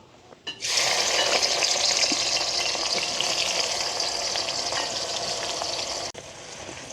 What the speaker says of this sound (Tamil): வெங்காயமும் எங்களுக்கு நல்லாவே பொரிஞ்சு வரட்டுக்கு.